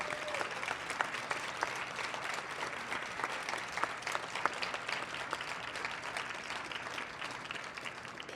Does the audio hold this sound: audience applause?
yes